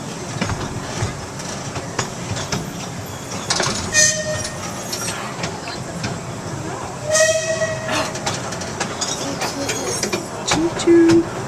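The Dry Gulch Railroad amusement park train at Hersheypark rolls past with rumbling wheels and rhythmic clacks, a couple of brief bell or whistle tones, over a noisy crowd with voices nearby.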